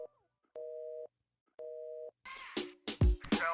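Electronic telephone tones sit inside a song: two steady beeps separated by silence, like a busy or dial signal, then the music enters with drums and bass.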